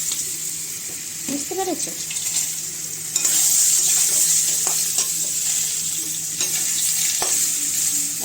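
Taro with black cumin sizzles and fries steadily in hot oil as a spoon stirs and scrapes the pan, loud and close; someone briefly speaks over the cooking.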